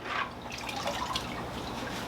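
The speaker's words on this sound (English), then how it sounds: "dunk it right into our tank water" Filter media basket from a Fluval 407 canister filter dunked into aquarium tank water, giving close, continuous splashing and dripping sounds that run steadily throughout.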